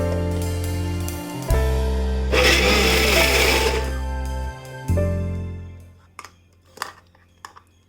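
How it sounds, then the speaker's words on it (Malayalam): A kitchen mixer-grinder whirs loudly as it purees onion into a paste, running in steady bursts, then rising into a harsher grinding roar before stopping. A few faint clinks of the jar follow. "ആദ്യം ഒരു സവാള അടിച്ചെടുത്ത ശേഷം അടുത്തതിലേക്ക് ഇട്ടിട്ട് അടിച്ചെടുക്കാം."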